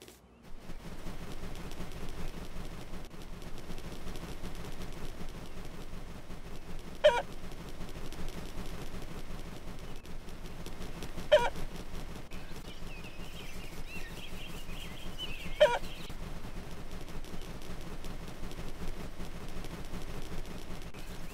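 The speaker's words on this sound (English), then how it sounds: "It seems Granny's chickens have left their coop." Cartoon chickens in the video game My Friend Peppa Pig let out three brief squawks spaced a few seconds apart over a quiet background hum.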